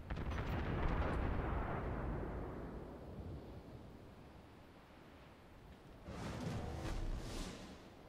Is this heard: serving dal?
no